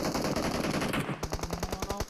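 Rapid automatic gunfire from a battle royale squad video game, a steady burst of evenly spaced shots rattling close and loud after a stretch of denser shooting, with no voices over it.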